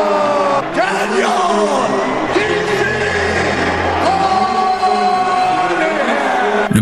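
An arena crowd at a UFC event roars, whoops and yells before the Jon Jones vs Daniel Cormier fight. The noise is loud and dense throughout, with a booming announcer-style voice calling out over it.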